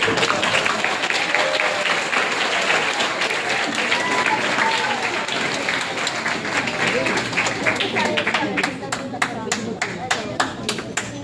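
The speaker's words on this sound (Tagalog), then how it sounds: "Grabe ang sigabong na palakpak." Loud, sustained applause from a church congregation at a 40th anniversary celebration fills the whole stretch, with dense clapping, cheering voices mixed in, and individual claps growing more distinct toward the end.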